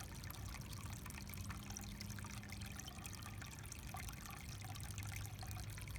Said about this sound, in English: how does it make you feel to hear this water?